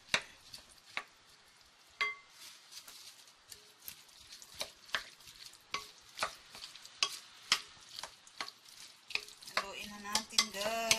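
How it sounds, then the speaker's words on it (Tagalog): Vegetable salad being stirred with mayonnaise in a bowl: a steady run of close, sharp scraping and clinking strokes that quicken toward the end, with no talk. "haluin na natin"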